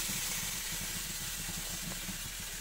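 Scallions sauté in a hot pan with a steady, soft hiss and faint sizzle, a low continuous texture with slight pulsing, heard close and without talking.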